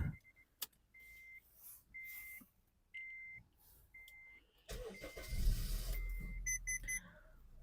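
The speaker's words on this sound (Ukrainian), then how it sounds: "Давайте ми заведемо автівочку." A 2012 Honda Accord being started: repeated dashboard chimes and beeps, then the engine cranks and catches into a steady idle with further electronic beeps, heard from inside the car.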